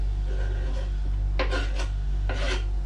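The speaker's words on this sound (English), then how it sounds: "time for me to add our lamb." Lamb tipped into a pan for a lamb and rosemary pie, heard as two or three close scraping, rasping bursts of meat and utensil against metal over a steady low hum.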